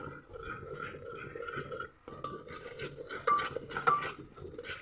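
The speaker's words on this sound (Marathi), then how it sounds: "तेल सुटूस्तवर हे वाटण शिजून घ्यायचं" Ground masala paste cooks in oil for a field-bean curry, quietly bubbling and gurgling while a spoon scrapes and clinks against the pot now and then, fairly close and soft.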